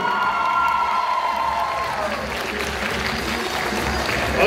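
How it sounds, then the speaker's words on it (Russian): Loud applause from an audience at an awards ceremony, dense clapping with cheers and a few shouts rising over it, steady throughout. "Аплодисменты."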